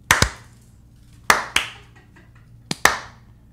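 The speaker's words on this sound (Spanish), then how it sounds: "Aplauso lento." A slow clap: six sharp, close hand claps in three spaced pairs with quiet gaps between, nothing else heard.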